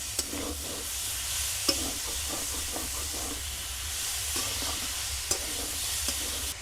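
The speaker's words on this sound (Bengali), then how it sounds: "নাড়াচাড়া করে নেবো।" Green peas with salt, sugar and turmeric fry in a pan with a constant soft hiss, while a spatula stirs them in a series of quiet scrapes and occasional sharper knocks.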